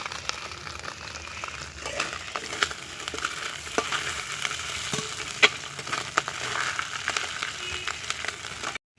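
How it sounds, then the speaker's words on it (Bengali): Whole dried red chillies and mustard seeds frying in hot oil for a winter sour-spinach and rohu fish head curry: a continuous crackling sizzle with small pops, close and even throughout. "তেলে দেখো গোটা শুকনো লঙ্কাটা দিয়ে দিলাম, দিয়ে দিলাম সর্ষেটাকে"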